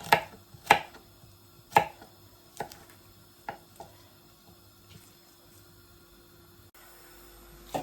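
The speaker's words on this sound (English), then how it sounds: "I'm just kind of cutting into the garlic to put them in" A knife cuts into cleaned garlic on a board for Jamaican chicken foot soup. A few sharp, close chops come in an uneven rhythm, with quieter gaps between them and a faint steady hum behind.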